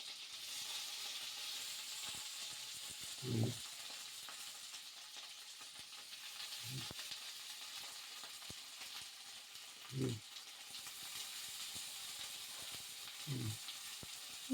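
Washed, cut cauliflower frying in hot oil for an aloo phulkopi chorchori makes a steady soft hiss, broken by several low dull knocks spaced a few seconds apart, like a utensil in the pan, with no voices.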